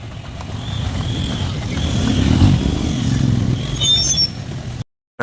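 Motorcycles rumble at the start of a bike riding event, a dense engine roar that swells slightly and holds steady before cutting off abruptly.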